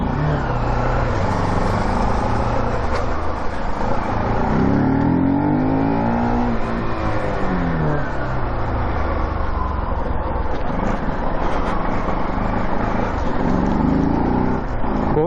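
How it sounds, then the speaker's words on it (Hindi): Motorcycle with a broken weld and a loose plate at the rear underside runs with a steady, loud engine drone and rising revs throughout, with a rattling tone mixed in and no talking. "पीछे से बैक से टक टक टक टक आवाज़ आ रही है।"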